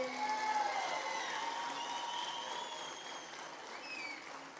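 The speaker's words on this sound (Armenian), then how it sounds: "Վարդենից խոշորացված համայնքին բարձր ծափեր" Applause from a festival audience at an outdoor event in Armenia's Gegharkunik region near Sevan: a dense, steady wash of clapping that fades slightly toward the end.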